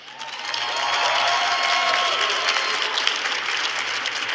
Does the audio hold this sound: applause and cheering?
yes